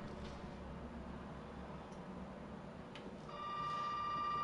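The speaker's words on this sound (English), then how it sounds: "Oh, the phone's ringing again." A landline telephone in the Resident Evil 7 video game starts ringing near the end, a steady electronic tone after a few faint clicks over quiet ambient hum.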